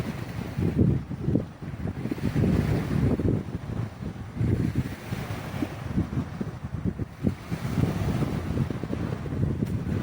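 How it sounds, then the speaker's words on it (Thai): Strong wind buffets the microphone on an empty Jomtien Beach in Pattaya, with sea waves surging and washing behind it in a loud, continuous, gusting roar and no voices. "โอ้ลมแรงมาก"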